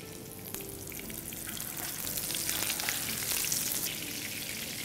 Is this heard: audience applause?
no